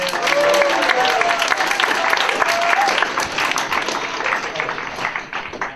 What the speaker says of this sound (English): Round of applause for Rob, volunteer.